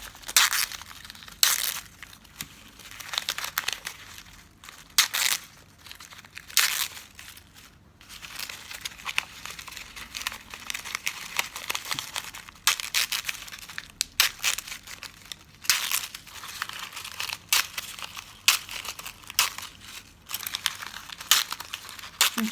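Ribbon ripped into strips to make bows, repeated crisp tearing and crinkling bursts at close range, irregular in rhythm over a long stretch.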